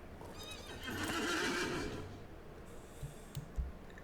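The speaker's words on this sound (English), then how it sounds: "And now, I summon my horse." A summoned pony in the online game Lord of the Rings Online gives a loud, quavering whinny lasting about a second, followed by a few soft hoof clops and faint clicks, against a quiet outdoor ambience.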